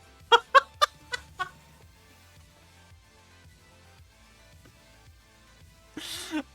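A person's voice imitates an owl but comes out like a chicken: four or five quick, bright clucking hoots close together, then silence, then a short burst of voice at the end.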